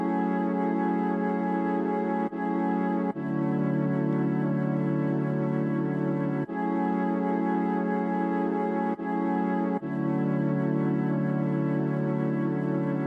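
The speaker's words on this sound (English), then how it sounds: "This time I used a flute preset from the MIDI library inside of Flex," Quantized chords played on a flute preset in the FL Studio FLEX plugin, with no effects added, sound as sustained, breathy, even tones that change chord every few seconds, steady and fairly loud throughout.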